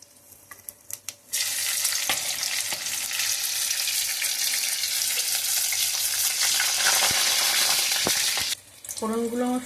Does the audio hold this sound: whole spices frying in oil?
yes